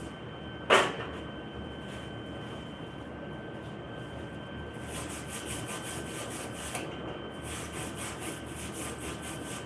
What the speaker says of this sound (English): I'm just grinding off the slag so I can keep welding.